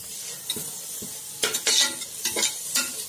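Drumstick leaves being sautéed in oil, with a soft sizzle and several scraping stirs of a spatula in the pan, loudest in the second half.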